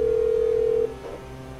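A mobile phone dials a call in the video game GTA 5, giving a steady electronic tone that holds for under a second before cutting off, leaving a low ambient hum.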